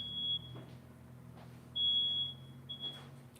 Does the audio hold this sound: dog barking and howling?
no